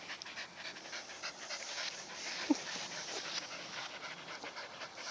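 Several dogs, an older dog and puppies out on a run, pant rapidly and continuously at close range, a quiet rhythmic breathy huffing with one brief small whimper midway.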